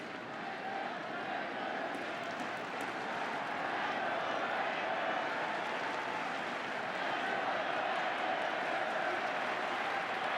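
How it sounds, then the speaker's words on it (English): A baseball stadium crowd at a World Series game between the Giants and Rangers, a steady broad roar with scattered clapping holding at a constant level throughout. "Crowd trying to get excited again"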